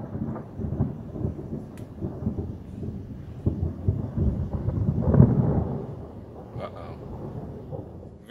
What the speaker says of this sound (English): We don't usually get huge lightning storms in Los Angeles, but oh, there goes another one.